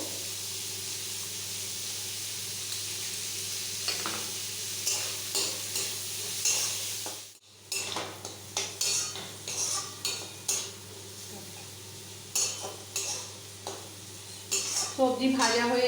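Mixed vegetables for fried rice fry on a low flame, a constant soft sizzle with repeated scraping stirs and clinks of a utensil against the pan, growing busier after a brief pause midway.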